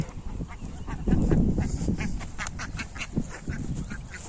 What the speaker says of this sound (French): on va voir les canards en même temps